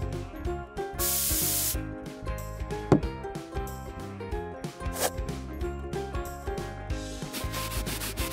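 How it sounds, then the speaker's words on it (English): Mineral spray misted onto a toy's face as makeup, one loud hissing spray burst lasting under a second amid rubbing and music, close up. "Baby gets mineral spray."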